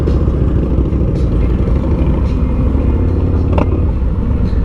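A 2023 Harley-Davidson Street Glide Special 120th Anniversary with a rubber-mounted engine idles with a steady, loud low rumble and uneven shaking throb, plus faint clatter and a few brief ticks on top.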